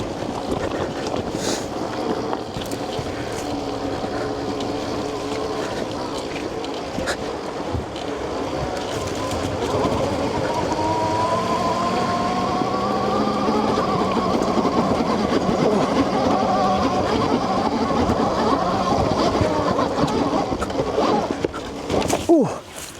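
A 72v electric dirt bike riding off-road in eco mode, a steady motor whine and rattling drivetrain that rises in pitch as it speeds up, with wind noise and bumps throughout.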